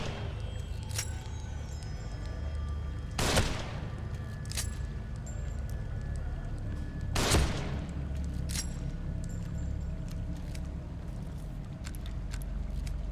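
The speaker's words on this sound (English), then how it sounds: "Let's get rid of these guys using headshots" Two loud gunshot blasts about four seconds apart in the survival horror game The Evil Within, ringing over a steady low ambient rumble, with faint clicks and ticks scattered between them.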